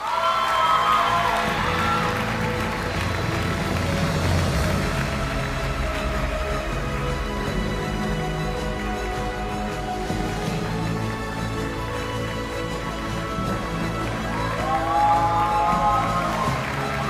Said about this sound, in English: Let's keep the claps going.